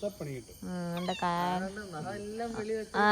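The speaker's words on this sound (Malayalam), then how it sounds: "അമ്മ പൂച്ചയും കൊണ്ട് നിൽക്കുന്നു" A cat meows several times close up, a run of drawn-out, wavering cries following one another in quick succession.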